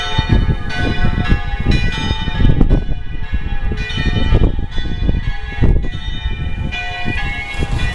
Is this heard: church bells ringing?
yes